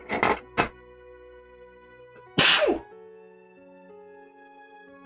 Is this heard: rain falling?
no